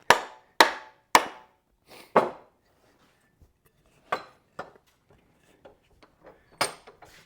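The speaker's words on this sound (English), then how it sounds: "that head's like smoothing out that handle as it goes in" An axe head is hammered down onto its handle: several loud, sharp knocks in quick succession, then sparser, softer taps and clunks in an otherwise quiet space.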